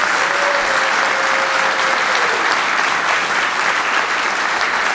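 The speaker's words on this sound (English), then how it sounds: "Everybody clap so we know what the comparison is." An audience at a blockchain and ICO event claps as loudly as it can, a dense, sustained roar of many hands at even volume for several seconds, with no talking over it.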